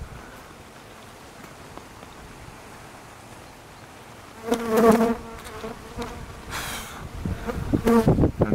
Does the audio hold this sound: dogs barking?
no